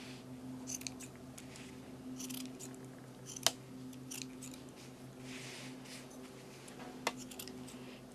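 Scissors snipping close around a yarn pom-pom bunny tail, with faint soft cuts spread across the clip and two sharp, distinct snips standing out, set over a steady low background hum.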